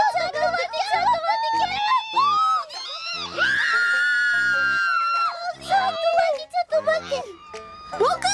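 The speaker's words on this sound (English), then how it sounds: "They're too busy screaming about the dog they hit." Several people scream and wail in a reacted-to scene after a dog is hit by a vehicle, shrill overlapping cries rising and falling continuously, with a loud burst in the middle and children's voices mixed in.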